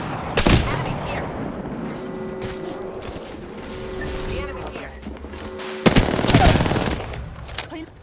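Bursts of gunfire from a video game shooter crackle in dense volleys, with a heavy burst near the start and another loud salvo toward the end, while a voice talks over the action.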